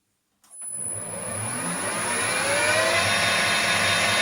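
A horizontal/vertical milling machine runs at about 700 RPM while the cut is gradually fed on, starting abruptly from silence into a loud, steady whir and grinding drone with a thin high whine, close and without speech.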